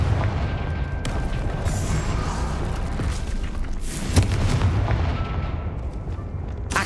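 A Confringo spell in Hogwarts Legacy bursts with a loud explosive boom over a dense, roaring, rumbling battle din, with a sharp blast near the middle standing out from the continuous noise.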